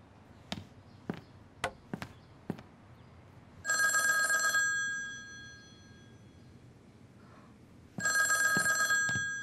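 A telephone rings in a Republic-era Shanghai drama, with two long, loud bursts of ringing after a few sharp knocks or clicks in a quiet room.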